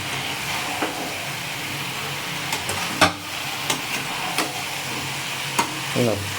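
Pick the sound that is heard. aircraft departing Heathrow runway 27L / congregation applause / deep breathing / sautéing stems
sautéing stems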